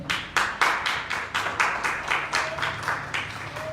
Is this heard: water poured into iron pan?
no